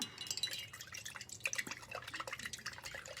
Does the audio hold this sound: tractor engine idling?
no